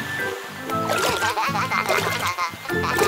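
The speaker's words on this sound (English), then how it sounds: "Look, the fountain is working." Fountain water splashing in a cartoon, a busy gurgling spray with bubbly sound effects layered over a bouncy musical bed, fairly loud throughout.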